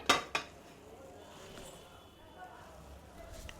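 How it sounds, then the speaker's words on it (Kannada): A pressure cooker set down on a gas stove for chicken biryani, two sharp metal clanks close together at the start, then quiet kitchen room tone. "ಕುಕ್ಕರ್ ಕಾಯಕ್ಕಿಡ್ತೀನಿ"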